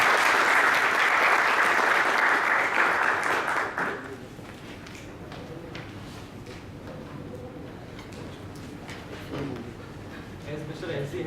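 Seminar audience at a tax panel discussion breaking into loud applause that lasts about four seconds and then stops abruptly, leaving quiet room tone with a voice speaking softly afterward.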